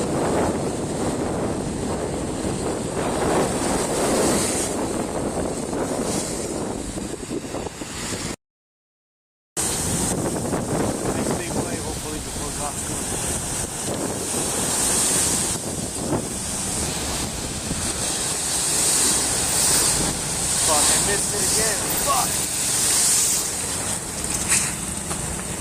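Ocean waves surge and crash at flooded Fort Lauderdale Beach, a continuous loud wash of surf mixed with gusty wind buffeting the microphone, with a brief gap of silence partway through.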